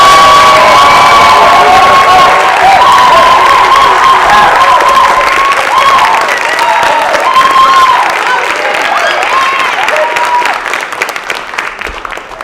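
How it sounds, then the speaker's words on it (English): Wild, joyful audience applause with loud cheering, whoops and children's shouts, a dense near roar that stays strong for most of its length before tapering at the end. "let me hear your applause."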